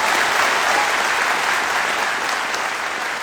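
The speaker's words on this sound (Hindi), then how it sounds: "तालियां होनी चाहिए" An audience at a live motivational seminar breaks into sustained, loud applause, a thick continuous roar of clapping that barely eases across the whole stretch.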